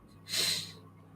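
A single short, sharp sneeze breaks out close to the mic, a breathy burst about a quarter second long, alone with no talk over it.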